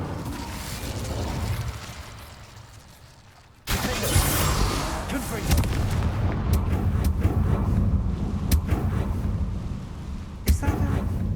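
An Incendio fire spell cast in Hogwarts Legacy on PS5: after a fading rumble, a sudden loud whooshing burst of flame roars on for several seconds, crackling with sharp pops and a late thump.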